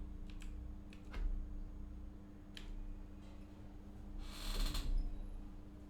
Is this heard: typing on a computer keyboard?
yes